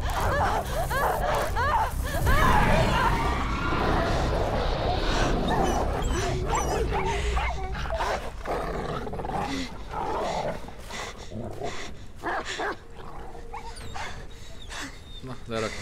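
Dogs bark, growl and whimper in a hunt scene from the video game Beyond Two Souls, loud and continuous throughout, mixed with game effects and with voices talking over them.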